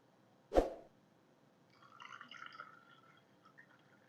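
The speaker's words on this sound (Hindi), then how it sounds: "पानी डालेंगे इसमें।" Water is poured into a glass holding ice cubes and mint sharbat, opening with a sharp single plop, then a soft, quiet trickle of filling liquid that gurgles and fades in a calm kitchen.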